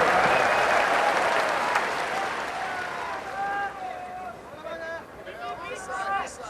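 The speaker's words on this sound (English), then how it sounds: "Listen to this crowd, man." A large arena crowd at the Pride Shockwave 2002 fighting event roars and applauds, a dense loud wash that gradually thins as whistles and scattered shouts rise through it.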